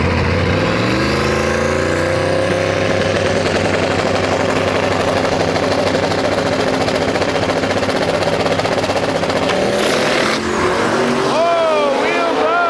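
A turbocharged LS-powered Datsun race car at the Mayhem event, its engine roaring loud and steady as it launches and pulls hard down the track, a rising whine near the end; a voice speaks over it.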